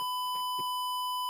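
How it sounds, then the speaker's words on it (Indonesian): A short steady electronic tone sounds from an Arduino Uno temperature-control circuit's buzzer, an overheat alarm, with a few faint clicks early on; the tone is constant and close. "buzzer menyala secara cepat"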